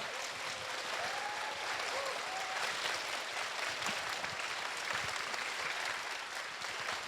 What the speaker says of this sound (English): please have your round of applause to welcome our protagonist of tonight